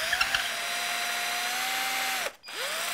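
Freehand power drill boring cable channels into an electric guitar body, a steady high whine held for over two seconds that winds down to a stop and then spins back up.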